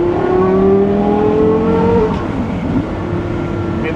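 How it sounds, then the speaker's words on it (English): A Porsche Carrera GT with a titanium exhaust holds a high, steady engine note, then drops off with a quick throttle blip and settles into a lower idle, loud and close with no talk. "When you want to blip the throttle,"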